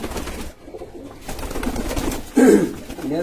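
Domestic pigeon, a female, cooing with low throaty bursts amid handling noise, the loudest coo coming near the end.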